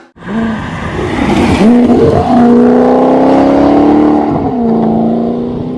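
A loud Ferrari 458 V8 engine revs hard and roars, its pitch climbing and dropping across several throttle blips, close and without any talking.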